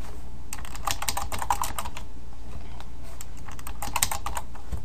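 Fast, steady keystrokes patter on a computer keyboard in close, crisp bursts, with a few brief pauses between runs and no voices.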